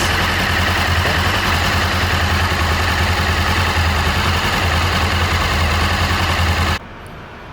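A 2016–2017 Honda CBR500R motorcycle engine idles loudly and steadily up close with a low, even throb, then cuts off abruptly near the end, leaving quiet.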